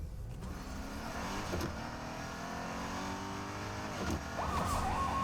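A vehicle engine in Fortnite hums steadily under a constant droning whine as it drives, moderately loud, with a couple of faint thuds and rising tones, and no talk.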